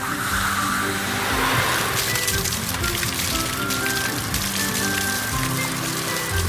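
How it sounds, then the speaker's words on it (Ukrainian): A cartoon fire truck sprays water in a steady, loud hiss, like a continuous heavy shower, running unbroken throughout with faint low rumbling beneath. "Вмикай воду."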